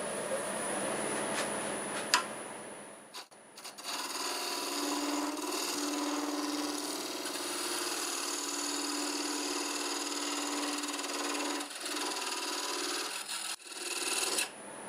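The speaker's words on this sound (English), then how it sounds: "I'm going to use a parting tool for that." Parting tool cutting grooves into a glue-block wood turning on a lathe, a continuous raspy scraping with short pauses and a brief break near the end, close and loud.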